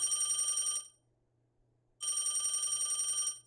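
A telephone bell rings in two long bursts with a pause of about a second between them, loud and clear with no talking over it.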